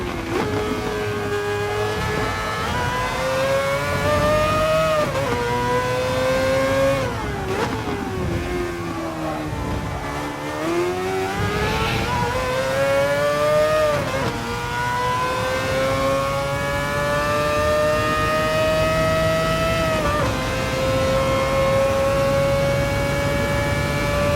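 A Mazda 787B race car at Le Mans in GT Sport, its high rotary-style engine note wailing loud and close, rising and falling through shifts and braking across the lap with no voices over it.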